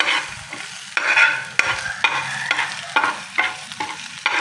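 Sautéing in a pan before bitter gourd goes in, a close, lively sizzle punctuated by regular sharp spatula strikes and scrapes, roughly every half second to second.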